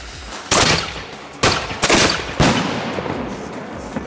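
3-inch fireworks mortar shells launched at night at Thredbo ski resort, Australia: four sharp, loud launch thumps at uneven intervals, each trailing off in a short decaying rumble, with no talk.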